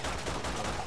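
Gunfire in the video game Resident Evil 6: a short, dense burst of loud, rough shots with no gap between them, filling the whole moment.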